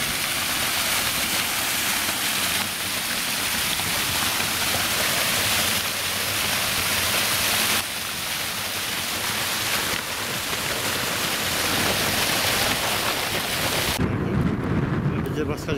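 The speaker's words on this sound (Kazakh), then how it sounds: "мына жерден бұлақ шығып жатыр" Spring water gushes out of the ground near a historic burial site in Kazakhstan, a loud, continuous rushing roar that fills the whole stretch.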